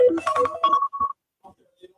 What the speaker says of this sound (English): No, it was my alarm.